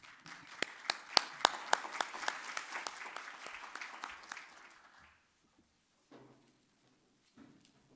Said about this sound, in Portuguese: pedir uma salva de palmas para todos eles.